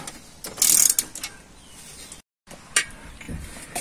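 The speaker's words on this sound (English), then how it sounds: "The ratchet bar really makes short work of it." Ratchet bar cranking a multi-stage scissor jack lifting a Toyota Land Cruiser, giving a close run of rapid metallic pawl clicks, then a brief pause and a few more clicks.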